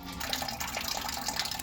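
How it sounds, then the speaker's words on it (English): Water from a garden wicking barrel pours steadily into a watering can, a continuous splashing fill with no talk over it. "It's at its maximum point, and it's filling up this watering can now."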